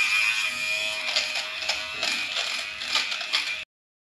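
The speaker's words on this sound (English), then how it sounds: "I think that was about 30 seconds worth of using the lint shaver." An electric lint shaver runs across the fabric of a Sutera pillow, giving a steady, close buzzing whir with a slight rattle that holds for about three and a half seconds, then cuts off.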